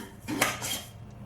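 A spoon scrapes and knocks around a bowl while almonds, cranberries and chocolate chips are worked into stiff biscotti dough, a couple of short close clatters.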